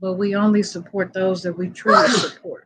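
A sharp, noisy sneeze bursts out near the end of steady talking, loud and close, followed by a short spoken word.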